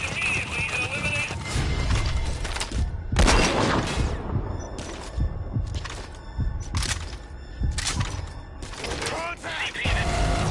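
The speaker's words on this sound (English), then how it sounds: "We've got unidentified gunfire." Bursts of gunfire crack out in Metal Gear Solid V: Ground Zeroes, several sharp shots spaced irregularly amid mechanical clanks and game ambience, with voice chatter in between.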